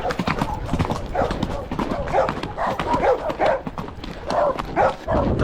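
Horse hooves clip-clopping along a rural road in Colombia's coffee region while dogs bark nearby, a steady close rhythm of hoofbeats mixed with yapping and some background noise.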